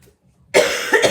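A single harsh, close cough bursts out after a quiet moment, followed by a second, smaller cough.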